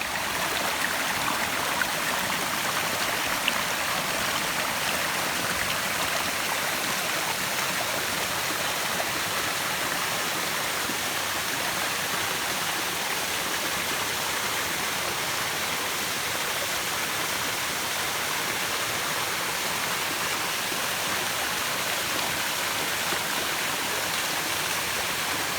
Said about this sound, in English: I heard the sound of the water, and here I've come and I found this beautiful waterfall in amongst the woods